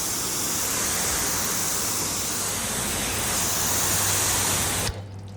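Water floods steadily across a ceramic-coated car panel in a continuous broadband hiss of spray and sheeting runoff, close and loud, cutting off abruptly near the end.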